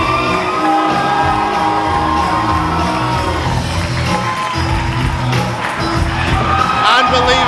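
A wrestling crowd at Merriwa roars and shouts for the new EPW champion, a loud, continuous wall of cheering, whoops and yells that swells toward the end, with a commentator's voice over it.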